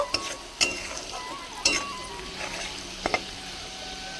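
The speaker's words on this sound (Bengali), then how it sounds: "এবার আমি ভালো করে কষিয়ে নেব" Spice paste with cumin powder sautéed in a pan for a rohu fish head curry, a low sizzle punctuated by a handful of sharp spatula scrapes and knocks against the pan, close and moderate, no voices.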